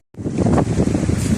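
Wind and waves at the seashore during bamboo spear fishing, a loud steady rush of wind buffeting the microphone over surf noise, starting abruptly, with no voices.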